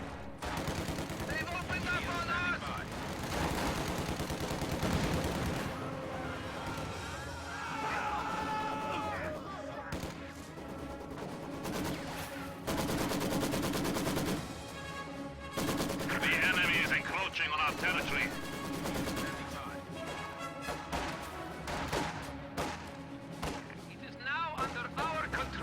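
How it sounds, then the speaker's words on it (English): Machine gun fire rattles in a World War II strategy game battle, bursts of rapid gunfire and thuds coming in loud waves with pauses between them, mixed with game effects and some voices. "Machine gun fire!"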